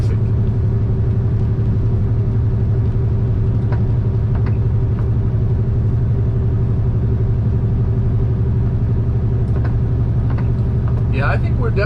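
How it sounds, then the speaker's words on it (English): A truck cruising in ninth gear through a rainstorm with lightning about, its engine a steady low rumble and drone that fills the cab throughout, with a constant wash of road and rain noise and faint scattered ticks above it. "Driving a truck while you're in the rain is nice."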